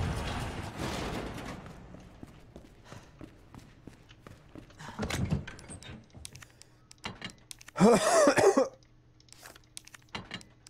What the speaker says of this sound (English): Coughing like a fucking smoker, dude.